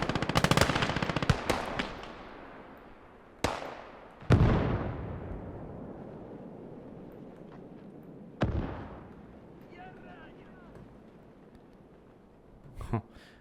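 Machine gun fire in the Gates of Hell war game, with bursts of loud rapid shots early on, then several isolated distant booms and cracks echoing and fading, while a voice talks in the background.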